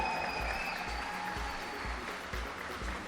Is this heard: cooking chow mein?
no